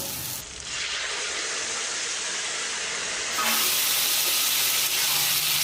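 Pre-boiled pumpkin curry poured into a pan of sizzling spice masala, giving a loud, steady steamy hiss that swells sharply after a few seconds and continues unbroken.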